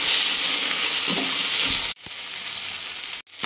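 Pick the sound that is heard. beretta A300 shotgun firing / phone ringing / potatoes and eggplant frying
potatoes and eggplant frying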